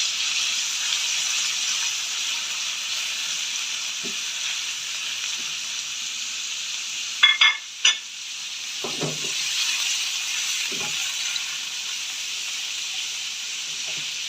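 Minced keema frying in oil in a pan, a continuous hissing sizzle close by with a few brief clanks of a spoon against the pan partway through, no voices.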